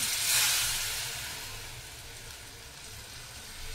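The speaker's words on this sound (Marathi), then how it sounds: "तर आता हे मी गरम पाणी घालून घेते" Hot water goes into a pot of chicken masala cooked with onion, tomato and yogurt, giving a bright hissing sizzle that peaks in the first second and then fades to a soft, steady simmering hiss.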